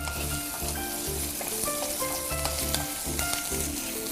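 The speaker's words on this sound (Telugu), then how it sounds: "బాయిల్ చేసుకొని ఫ్రై చేసుకుంటారు కదా, అది క్విక్ గా అయిపోతుంది" Already boiled potatoes fry in a hot pan with a dense, continuous sizzle and occasional stirring clinks, heard up close and alone without speech.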